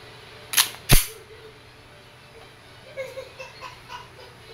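KWC 1911 Tactical airgun firing 4.5mm steel BBs, two sharp, loud close shots about half a second apart, followed by faint handling clicks.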